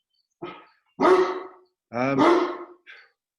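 Dogs bark at night in a quiet setting, several distinct barks in quick succession with short gaps between them, loud and close, with no talk over them.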